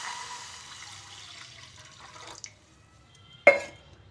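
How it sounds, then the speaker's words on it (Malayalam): A cup of water poured into a pan for cooking Maggi noodles, a quiet trickle that fades out, followed by a brief sharp splash near the end. "അതിലേക്ക് നമുക്ക് 1 കപ്പ് വെള്ളം ഒഴിച്ചു കൊടുക്കാം"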